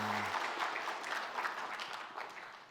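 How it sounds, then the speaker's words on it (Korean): Church congregation at Sunday worship applauds in a steady, dense patter of many hands, moderately distant and fading slightly toward the end. "우리 귀한 찬양 받으신 하나님께 감사와 찬양의 박수를 드리겠습니다."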